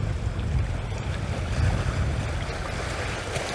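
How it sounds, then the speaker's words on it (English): Water and waves stirred up by the passing Viking Octantis cruise ship, heard from shore at Rotary Park: a steady, broad wash of water with wind noise, continuous and moderately loud throughout, with no talk. "Oh, I can hear the water coming."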